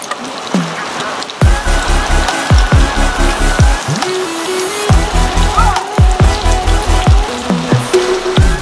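Heavy rain pours down in a steady, loud hiss, with a repeating series of deep thumps pulsing underneath.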